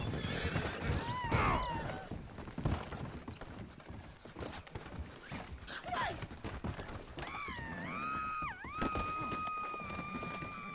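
In Red Dead Redemption 2, a horse whinnies and neighs twice amid clip-clopping hooves, moderately loud over game sounds, with a long high sustained squeal near the end.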